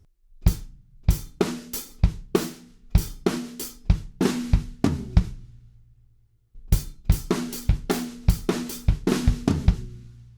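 Two bursts of drumming from a song's tail fill, each a quick run of hits across the kit ending in a ringing tom, separated by a brief pause.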